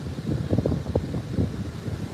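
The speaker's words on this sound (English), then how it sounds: "It's quite windy" Steady wind buffeting a microphone outdoors at a beach in Australia, a continuous low rumble with gusty swells throughout.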